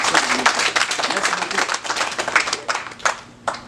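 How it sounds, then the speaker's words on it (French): A church congregation at a Eucharist celebration claps for association members, a dense crowd of hand claps, loud and near, with scattered sharper claps as the applause trails off. "Il faut les applaudir pour moi, les membres de l'association"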